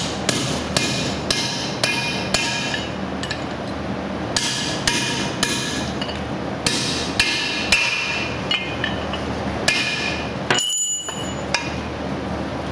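Sharp metal hammer blows drive wheel studs through a Dana 70 axle hub, landing in quick irregular bursts of close, ringing strikes with short pauses between groups.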